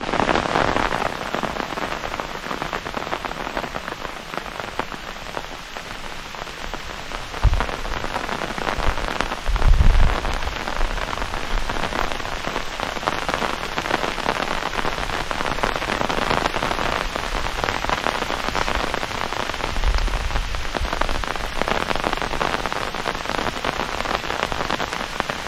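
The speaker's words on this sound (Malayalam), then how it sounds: "മഴ വീണ്ടും ശക്തമായി" Heavy rain pours steadily at the misty hilltop Kattadikadavu viewpoint, a dense close hiss of drops on surfaces lasting throughout, broken only by a couple of soft low thumps.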